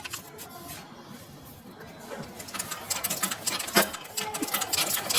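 A pedal-operated sewing machine stitches through paper in short bursts, a fast rattling patter that speeds up and grows louder, heard close by with no talking.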